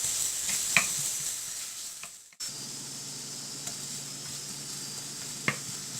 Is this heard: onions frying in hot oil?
yes